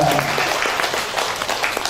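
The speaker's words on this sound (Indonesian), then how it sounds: "kita beri tepuk tangan yang meriah untuk kesepakatan kita" Teachers at a chemistry teaching workshop break into a short burst of lively group applause, dense and close, filling the room.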